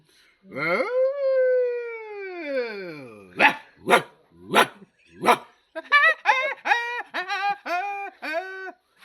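A man imitates a dog barking in the morning, starting with a long rising howl-like call, then four sharp separate barks and a quick run of yipping barks, loud and close with no other voices.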